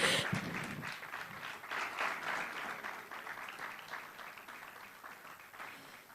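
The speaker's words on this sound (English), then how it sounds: "Please sustain the applause till he gets to his seat." Sustained applause from a conference audience at a technology festival, a dense wash of clapping that stays steady and fairly loud throughout with no talk over it.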